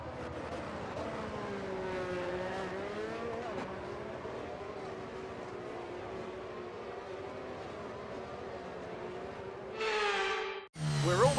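A pack of F1 race cars in a racing game on a formation lap at Singapore drone with rising and falling engine notes. A commentator talks over them, then a near car roars loudly past at the end.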